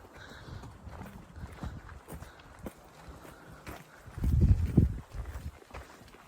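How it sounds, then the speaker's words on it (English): Horses walk along a trail at Chiricahua National Monument in Arizona, their hooves giving faint, irregular clip-clops at a distance, briefly louder near the end, over quiet outdoor background. "Beautiful horses."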